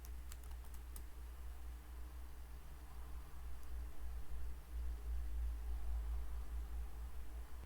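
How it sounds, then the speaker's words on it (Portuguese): A login name and password are typed on a computer keyboard in a Linux terminal session, a quick cluster of crisp keystrokes near the start followed by a steady background hum. "É só digitar root, é o login e a senha."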